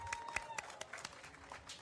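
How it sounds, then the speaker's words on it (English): Applause for domestic violence survivors at a city ethics commission meeting, faint and distant scattered clapping with a low hum and light room noise underneath. "a round of applause for our survivors"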